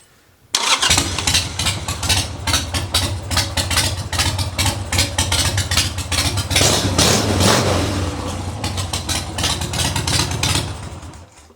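A motorcycle engine fitted with an aftermarket Amazon carburetor cranks and catches after a short pause, then idles loudly and steadily with a pulsing, uneven rhythm for several seconds.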